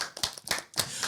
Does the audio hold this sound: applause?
yes